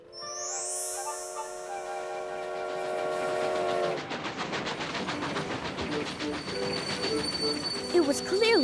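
Train pulling into a station in an animated series, a sustained horn or whistle tone giving way to rhythmic rolling wheels and clatter, with squealing brakes near the end.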